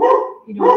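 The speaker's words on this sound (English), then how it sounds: "Sorry about the dogs." Dogs bark indoors at home, giving a short, loud, drawn-out bark followed by another, with a person talking at the same moment.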